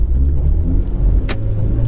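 Hyundai Genesis Coupe engine running as the car pulls away on an icy surface, a steady close low rumble with a brief sharp burst partway through.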